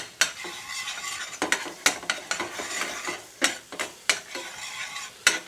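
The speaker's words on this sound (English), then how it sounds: "Give that a good stir." Mixed spice stirred into chicken makhani curry in a pan, with repeated sharp scraping knocks of a utensil against the pan over a soft sizzle, close and irregular.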